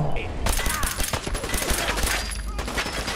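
Rapid bursts of gunfire from the video game Fallout 4 fill the stretch, loud and dense with repeated shots over a constant game background, with a voice talking over it.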